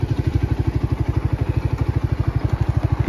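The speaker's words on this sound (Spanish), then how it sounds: "esta es la nueva moto que nos compramos" A Borra 200cc motorcycle engine idles close by with a loud, rapid, even thumping pulse that holds steady throughout, with no talk.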